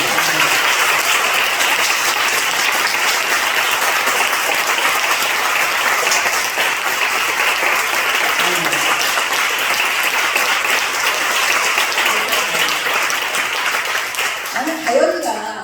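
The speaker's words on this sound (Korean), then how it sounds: "그렇게 박수 치는 거야" Church congregation applauding during a Sunday sermon: a long, steady roar of many hands clapping at constant loudness, with voices briefly rising near the end.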